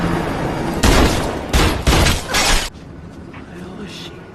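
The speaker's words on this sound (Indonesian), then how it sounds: "Diikuti dengan tembakan polisi kepada Riley" Police gunfire in a film scene comes as several sharp, loud bursts of shots in quick succession over about two seconds, then drops to quieter background sound.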